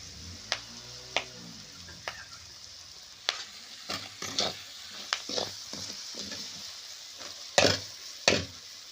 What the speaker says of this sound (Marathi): आता ते व्यवस्थितपणे आपल्याला सर्व आता मिक्स करून घ्यायचं आहे